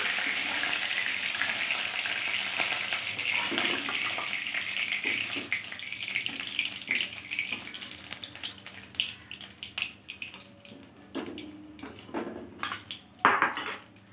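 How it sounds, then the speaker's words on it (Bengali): Long-cut potato strips fry in hot oil after a tilapia fish has been lifted out, making a broad hissing sizzle that thins out as sharp utensil and pan clinks grow more frequent toward the end. "এবার আমি একটু আলু লম্বা লম্বা করে কেটে নিয়েছি, সেই আলুটাকে আমি ভেজে নিচ্ছি।"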